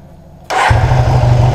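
A Honda CB 450 DX motorcycle engine, freshly carburettor-tuned with vacuum gauges, fires up abruptly after a moment of quiet and settles straight into a loud, steady, close idle.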